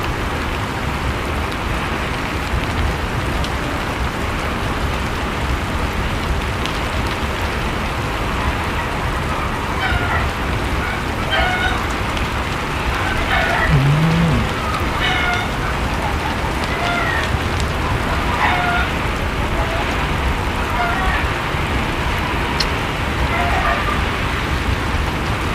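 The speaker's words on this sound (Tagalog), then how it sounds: "Maulan pa rin guys." Heavy rain falls in a dense, steady hiss throughout, with a few faint voices and small clatters underneath.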